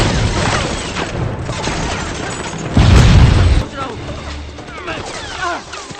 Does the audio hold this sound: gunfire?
yes